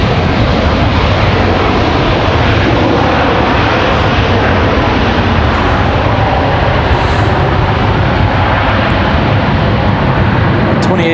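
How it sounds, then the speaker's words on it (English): An American Airlines A321 arriving from Charlotte at Raleigh-Durham airport gives a loud, steady broadband engine roar lasting throughout, heard from a curbside spot with faint talk underneath. "This is American 3163 coming in from Charlotte"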